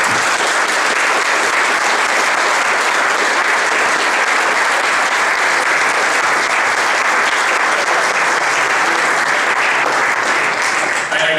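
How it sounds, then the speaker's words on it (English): A city council candidate forum audience claps steadily and loudly, a dense, even round of applause that lasts throughout without pause. "A round of applause."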